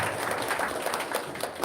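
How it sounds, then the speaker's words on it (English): An audience claps at a university seminar in a steady, dense patter of many hands, close and moderately loud throughout, with no distinct voices. "Give a clap to Pradeep ji."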